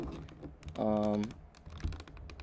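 Typing on a CyberPower PC gaming keyboard with no special switches, a quick run of keystrokes that briefly turns into a tonal whir partway through, close and moderately loud, with a voice faint in the background.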